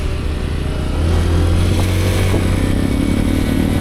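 A Honda Trail 125 motorcycle being ridden, its engine droning loud and steady with a low hum that swells slightly as it pulls away, with no talk.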